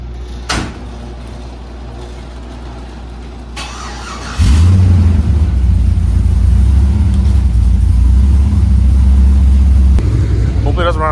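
A Chevy C10 truck fitted with exhaust cut-outs starts up after a door thuds, then its engine settles into a loud, deep, rumbling idle that holds steadily close by.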